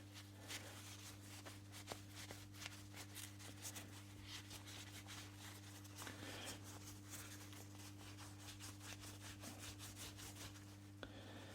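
Saw medallions hand-polished with blue paper and metal polish, giving a faint, quick back-and-forth rubbing that repeats steadily over a low background hum, with no talking.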